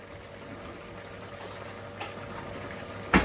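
Steady, soft sizzling of food frying in a pan for gravy for smothered chicken, a continuous hiss with a brief louder clatter right at the end.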